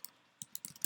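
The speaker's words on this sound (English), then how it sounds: "I can start typing" A few quick, close clicks of keys being typed on a computer keyboard, light and irregular, with no voices.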